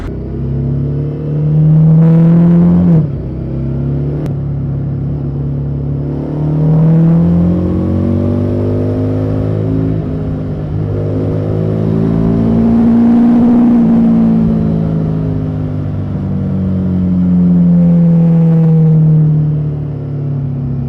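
A Harley-Davidson Street 750 motorcycle's exhaust rumbles steadily and loudly while being ridden, its pitch rising and falling with gear changes and throttle.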